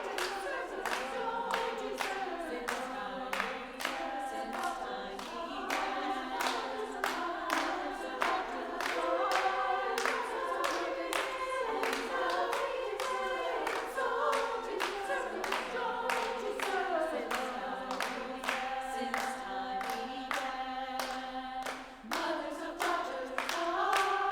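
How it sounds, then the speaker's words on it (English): Choir members clap sharp, rhythmic beats through a rehearsal while singing, the crisp hand claps repeating steadily in time over the melodic voices. "Less clapping."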